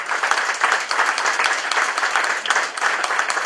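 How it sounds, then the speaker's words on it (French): An audience at a municipal election campaign gathering applauds a named collaborator, with a steady dense burst of clapping in loose rhythmic waves. "Sonia Chevignac, que je vous demande d'applaudir ici."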